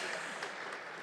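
Brief, fairly faint clapping from a convocation ceremony audience, a soft steady patter with no clear peaks.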